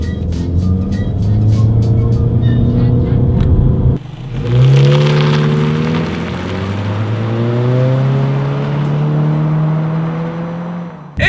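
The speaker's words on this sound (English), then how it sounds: "let's do a quick little acceleration and see how quickly we can get this new 2019 Honda Civic here" A 2019 Honda Civic sedan with a CVT accelerates hard from a standstill, its engine droning loudly and rising steadily in pitch as it gains speed, heard from inside the cabin.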